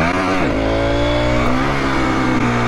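An Aprilia SX 125 motorcycle engine revs hard during a wheelie attempt, a loud close buzzing drone whose pitch dips and climbs with the throttle, with no talking.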